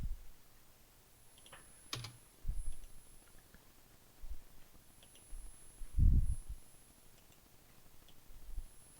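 Computer keyboard and mouse in a quiet room: sparse, soft clicks and a few keystrokes scattered at irregular intervals, faint and close, with no talking.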